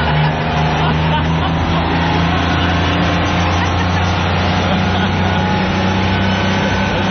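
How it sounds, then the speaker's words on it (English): Vehicle engine drone with steady low rumble throughout, consistent with a bus pulling away after a concert, loud and continuous with voices faintly mixed in. "that the bus pulling away?"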